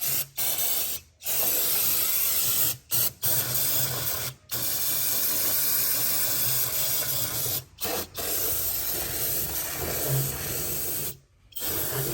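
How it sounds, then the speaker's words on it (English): Brake cleaner sprayed onto car engine parts during an oil cooler change on a 2014 Dodge Journey 3.6 AWD, loud sustained aerosol hissing in long bursts broken by short pauses. "it's okay to use brake cleaner because it evaporates"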